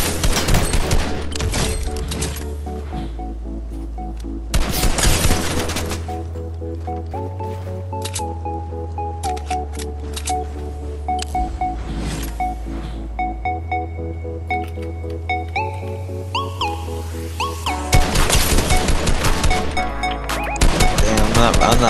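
Submachine gun fire in a video game comes in rapid, loud bursts against a steady, droning soundtrack, with a few pauses between volleys.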